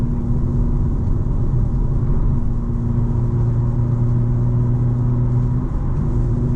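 2025 BMW M4 Competition xDrive driving on a slick road, heard from inside as a steady low engine and road rumble with a faint sustained hum, no speech.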